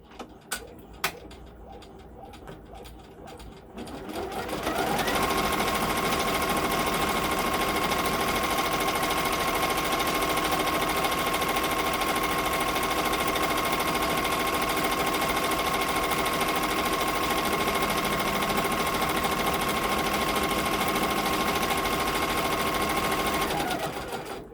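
Embroidery machine stitching a curtain rod design onto a quilt block, a steady fast mechanical whir and rattle that starts after a few quiet seconds of birds cooing, then runs loud and unbroken.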